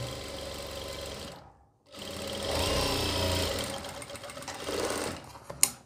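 A sewing machine runs a seam along the folded edge of a pant belt, a fast steady mechanical whir that stops briefly, then resumes and carries on to a final clack.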